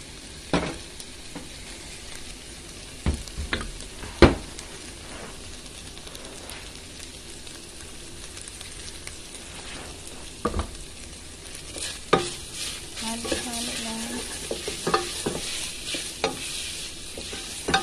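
Food frying in cooking oil crackles with a constant sizzle while a spoon scrapes and clanks against the pan in irregular stirs, close-up, with occasional louder knocks and no speech.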